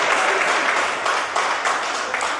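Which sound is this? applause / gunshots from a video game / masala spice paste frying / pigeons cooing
applause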